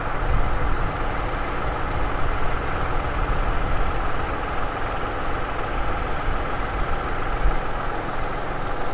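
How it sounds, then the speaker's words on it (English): A Toyota engine idles with its AC compressor spinning, giving a steady, close mechanical hum and whir that holds even throughout, with no talking. "So there you can see the compressor is spinning."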